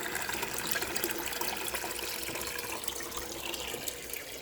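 Water drains steadily from the tank of a Liberty 9-liter hypochlorous acid generator, a close, continuous trickling and gurgling flow at low volume with no voices.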